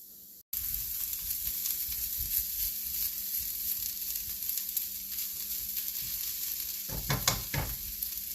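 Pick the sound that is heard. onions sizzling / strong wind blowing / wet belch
onions sizzling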